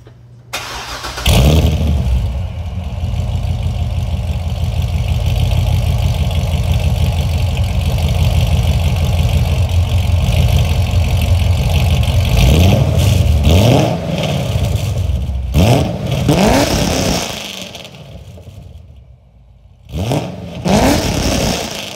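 A supercharged 2009 Chevrolet Corvette C6 cranks and fires up loudly, settles into a rumbling idle, then rises in several sharp revs before dropping back, close and dominant with no talking.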